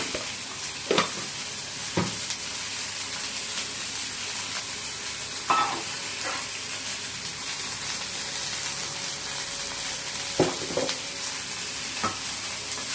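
Green chilli sautéing in a pan for a moong dal and drumstick kootu, a steady close sizzle and crackle running throughout, broken by a few sharp scraping stirs of a spoon against the pan.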